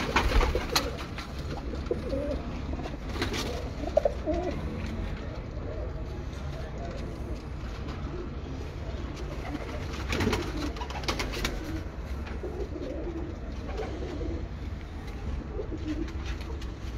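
Breeder pigeons coo repeatedly in a loft, soft throaty calls continuing under steady background noise while people talk nearby.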